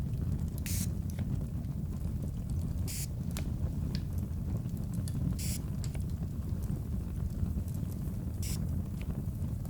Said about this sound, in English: Just a gentle misting.